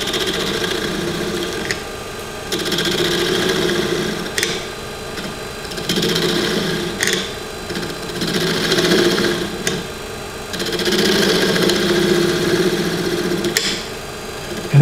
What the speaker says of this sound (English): I'm just gonna use a spindle gouge to do that